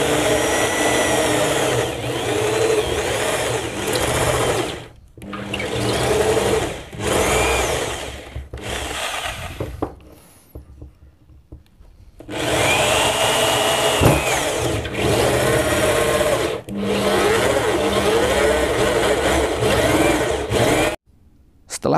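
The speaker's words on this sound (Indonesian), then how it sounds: "Kita bor dulu untuk T-nya." A power drill runs in long loud bursts, whining steadily as it bores into PVC pipe, stopping briefly between runs, close by.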